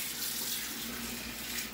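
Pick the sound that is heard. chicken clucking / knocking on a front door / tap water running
tap water running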